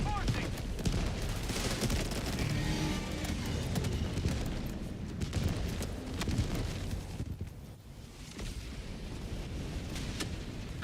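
A rocket sentry fires in a video game, a dense continuous barrage of shots and blasts at steady loudness, with voices talking over it.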